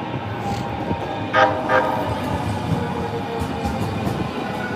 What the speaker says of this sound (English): There don't be no damn trains making noise all night.